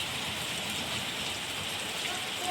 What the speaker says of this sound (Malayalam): ഇന്ന് പെയ്ത മഴ കണ്ടോ?